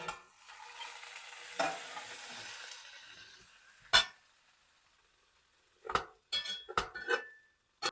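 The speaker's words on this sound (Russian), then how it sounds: "обжариваем еще столько же с другой стороны" Grated potato sizzles in a hot pan with a steady, close hiss that fades, followed by several sharp clatters of a pan and utensils.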